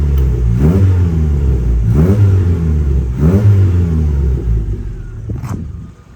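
A 1275cc Cooper Car Co Classic Mini engine revs loudly and close in three or four rising blips, each dropping back to a throbbing idle, with the last burst fading out.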